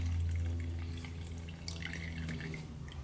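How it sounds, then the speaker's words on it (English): A thin trickle of gasoline from a disconnected quad fuel line drips and splashes quietly, close by, over a low steady hum. "Decent gas flow out of there."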